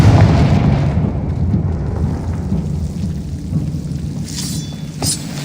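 The Confringo fire spell explodes in the video game Hogwarts Legacy with a loud, deep, rumbling blast that rolls on and slowly fades, followed by a short crackling burst near the end.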